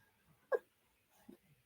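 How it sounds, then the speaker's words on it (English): A little girl hiccups softly in a quiet room, one sharp short hiccup followed a moment later by a fainter second one. "yeah, she still has the hiccups."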